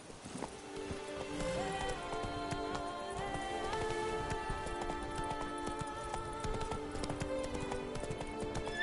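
Roach the horse trots in The Witcher 3, with steady hoofbeats and jingling tack over a continuous ambient music bed.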